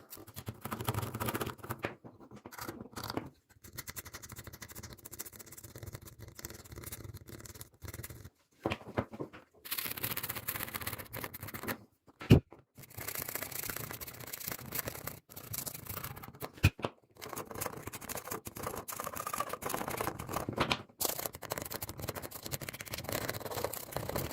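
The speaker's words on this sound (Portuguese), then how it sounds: "Nós vamos raspar o esmalte na junção das placas." A sharp utility knife scrapes enamel off the joint of a cracked PCI circuit board, down to the bare copper. Dry, raspy scraping strokes come close and continuous, broken by a few short pauses.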